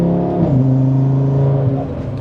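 An Audi RS3 car accelerates hard, its loud engine note climbing in a strong, steady rev that holds close and continuous for a couple of seconds with no talking.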